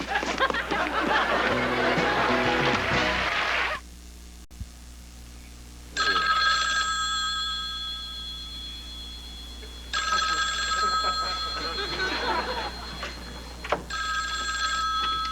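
A telephone rings in a comedy series, with loud repeated bursts of electronic ringing broken by short pauses, then a quieter ringing spell. Chatter and laughter run between the rings.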